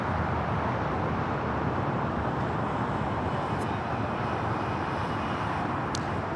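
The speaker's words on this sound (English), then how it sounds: "that is China's Southern Cargo 446 taking off to Shanghai on the 777 freighter" A China Southern Cargo Boeing 777 freighter takes off at LAX, a steady broadband engine roar holding at constant loudness throughout, with no voices.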